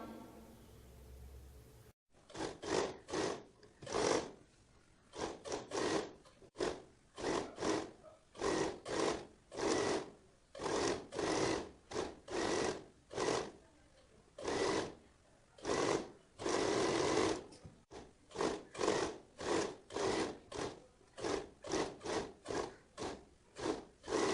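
A sewing machine stitches a sleeve onto a kurti in repeated close, loud bursts of rapid needle chatter, stopping and starting many times with short pauses between runs.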